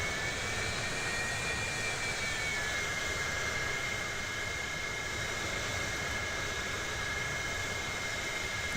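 A steady, loud jet engine roar with a thin high whine from an English Electric Lightning taxiing in a flight simulator game, droning evenly with no talk.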